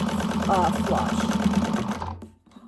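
A sewing machine runs steadily for about two seconds, stitching down the seam allowance on a bag gusset, then stops; a voice talks over the machine.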